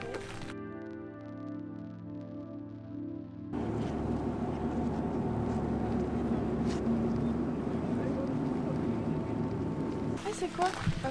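A boat ride on the water in Gothenburg, Sweden: a low, steady engine hum gives way to a loud, continuous rush of wind and water noise that carries on for several seconds.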